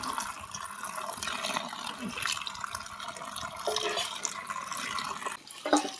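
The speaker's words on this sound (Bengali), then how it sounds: "কচু শাকগুলো ধোয়া হয়ে গেছে" Taro leaves are washed in water, with continuous splashing and trickling close by, occasional sloshes and drips, and a short knock near the end.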